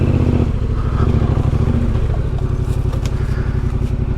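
Yamaha Tenere 700 motorcycle idling while being parked in a shady clearing just off a dirt track: a loud, close, steady low engine rumble with a rapid pulsing beat and some mechanical clatter.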